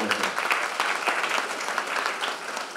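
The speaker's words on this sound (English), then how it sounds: "And I think we need to applaud that effort." Steady applause fills the whole stretch at a graduation ceremony for vocational certificate holders, a dense, even clatter of many hands clapping with no pauses.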